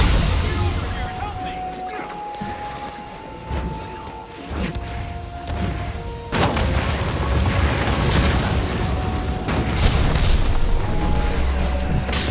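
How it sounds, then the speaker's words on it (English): A grenade kit in Guild Wars 2 sets off several dull booming blasts over steady game noise and music, with people talking throughout. "Oh, grenade kit."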